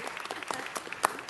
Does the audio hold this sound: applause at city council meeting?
yes